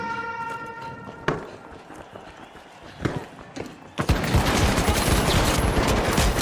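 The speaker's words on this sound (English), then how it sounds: "Stop with your overpowered hand cannons." Heavy hand cannon gunfire in the online shooter Marathon: loud sharp single shots at first, then a dense, sustained roar of rapid overlapping fire with no voices.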